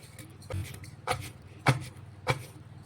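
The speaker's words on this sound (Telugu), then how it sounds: "మనం ముక్కలుగా కట్ చేసి పెట్టుకున్న ఈ మామిడికాయ ముక్కలను కూడా వేసుకొని ఒకసారి వీటన్నింటినీ కూడా దంచుకోవాలి." Raw mango pieces pounded with a pestle for chutney, four or five dull thuds at a steady, unhurried rhythm, close by over a faint background hum.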